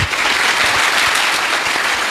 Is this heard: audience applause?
yes